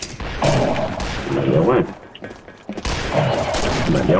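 Rapid gunfire from a shooter video game crackles in bursts around a short pause, with a player talking briefly over it.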